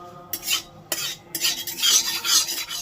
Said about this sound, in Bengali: প্রথমে দিচ্ছি শুকনো লঙ্কা আর দিচ্ছি গোটা সর্ষে কালো সর্ষে এবার এটাকে হালকা করে ভেজে নেব